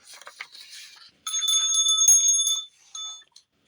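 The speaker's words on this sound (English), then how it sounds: "Who's tired of that bell already?" A small bicycle-style bell rings in a long rapid trill, then a shorter burst, bright and close, preceded by faint scattered tinkling.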